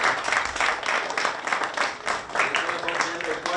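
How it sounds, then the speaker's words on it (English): Audience applause at an International Youth Day 2023 youth event in Rwanda, a steady wash of many hands clapping that carries on for the whole stretch with voices mixed in. "Let's give him a round of applause."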